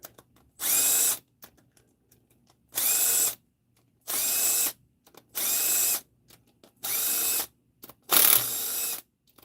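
An 8mm socket on a power tool loosens the rocker arms of an engine during a teardown, in six loud, even bursts of whirring ratchet noise, each about half a second long, separated by short quiet gaps.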